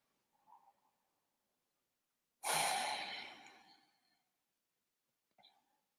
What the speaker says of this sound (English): let's take 3 deep conscious breaths together